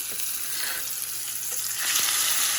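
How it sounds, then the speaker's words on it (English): Top sirloin steak sears in a very hot pan, giving a loud, close, continuous sizzle that swells near the end as more meat goes in. "I'm gonna let them sear on both sides for like 4 minutes until I get a nice sear on them"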